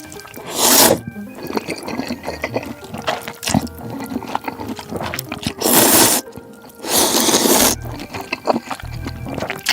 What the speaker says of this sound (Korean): 라면을 맛있게 먹는 소리가 들리죠?